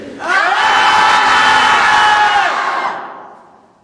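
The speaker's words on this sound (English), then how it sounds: "I want everybody to yell as loud as they can" A retreat audience at a meditation lecture yells together as loud as it can in one sustained roar of mixed shouts and whoops that holds for over two seconds, then fades out.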